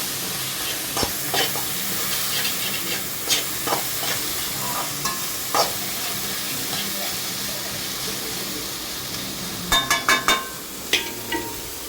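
Green capsicum stir-fried for hotel-style fried rice gives a steady sizzle with repeated scraping stirs and sharp metallic clinks of a ladle against the pan, busier toward the end.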